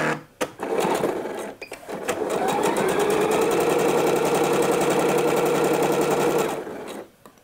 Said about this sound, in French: Et je vais piquer à 9 mm du bord.